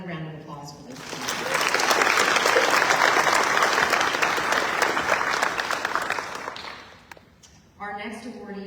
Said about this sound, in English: So another round of applause for those two.